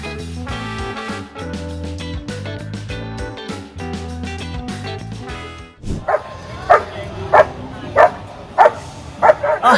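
A small dog barks and yips at police dogs, a run of sharp, evenly spaced barks that starts partway through after a stretch of music and stays loud and close.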